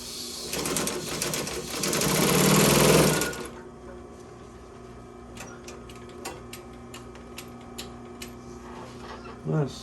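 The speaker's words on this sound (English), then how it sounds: "Let me sew it from the back side now" A sewing machine stitches bench seat upholstery in a loud, dense run of about three seconds. It stops, and a quieter stretch follows with scattered sharp ticks and clicks and a faint background hum.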